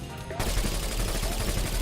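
After a brief quiet start, a plunger weapon in a video game fires in a rapid, continuous burst of dense, rattling shots that carries on to the end.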